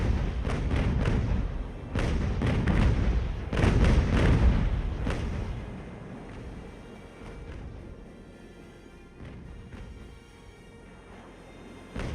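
Cannon broadsides boom in Ultimate Admiral: Age of Sail, a naval battle game: heavy thuds fire in rapid clusters early on, then the barrage thins to scattered distant rumbles over a low wash of battle noise.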